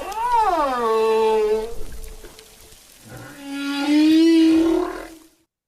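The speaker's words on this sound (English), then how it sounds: "recordings of whales communicating at sea" Whale song recorded at sea: two long, sweeping tonal calls that rise and bend in pitch, the second more drawn-out and sliding upward before fading to silence.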